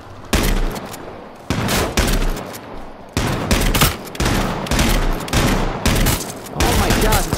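Rapid bursts of combat shotgun and other gunfire in the battle royale game H1Z1, loud repeated volleys in close succession over about seven seconds with no pauses of quiet.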